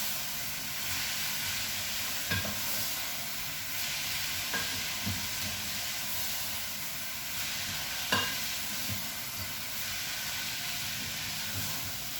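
Steamed cabbage stirred in a pot under a steady steamy hiss, with a few separate scrapes and knocks spaced seconds apart, close but fairly quiet, with no talking.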